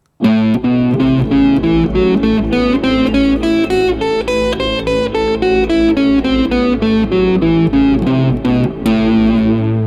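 An electric guitar with a distorted, effects-laden tone plays a blues-flavoured scale containing both the minor and major third, a run of single picked notes rising and falling in a steady rhythm, loud and alone.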